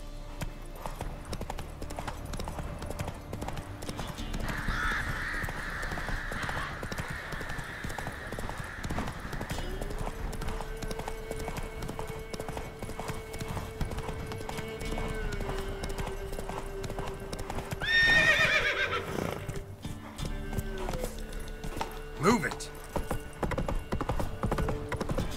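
Roach the horse gallops in The Witcher 3, hooves clip-clopping steadily throughout, with a brief whinny and a bright burst of game effects midway; no one speaks.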